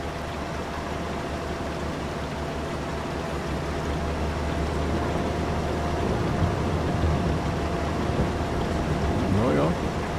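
Steady rain falls in Farming Simulator 22 during a sugar beet harvest with a Ropa harvester, a constant broadband hiss over a low machine rumble that swells slightly toward the end.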